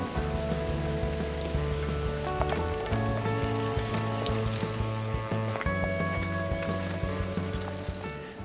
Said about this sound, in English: as you might be able to hear from the rain on the caravan roof